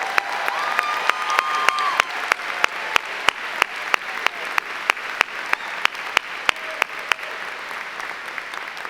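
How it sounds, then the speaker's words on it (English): A commencement audience at Ithaca College applauds steadily in a large hall, dense clapping with no talk over it, holding a sustained level throughout. "Please clap for that."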